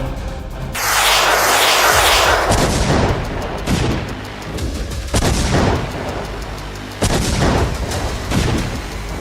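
Artillery fire during a large Russian military exercise with guns and armoured vehicles: several heavy booming blasts, loud and close, each followed by a long rolling decay, with a roar lingering between shots.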